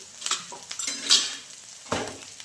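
Metal spoon scraping and clinking against a pan while soybean curry with turmeric and homemade black chili powder is stirred, several separate knocks over faint background, no talking.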